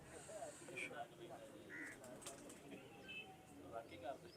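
Breeder pigeons in a loft give soft, intermittent coos and rustles beneath steady conversation from people nearby.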